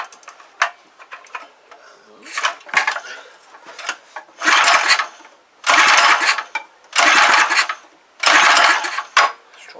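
A Clarke pressure washer engine is being started, with repeated loud cranking bursts of a second or so each, separated by short pauses and preceded by clicks and handling noises.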